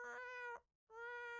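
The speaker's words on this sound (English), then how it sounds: "like rapid fire meows." A single cat gives two drawn-out, insistent meows in quick succession, separated by a brief silence, loud and close with no other sound around them.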